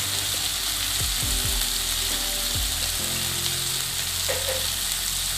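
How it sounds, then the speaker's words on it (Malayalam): Tapioca masala curry sizzles loudly in a pan while being stirred, a continuous close frying hiss with a few scraping strokes and a brief clatter near the end. "നന്നായിട്ട് ഇളക്കി കൊടുക്കാം"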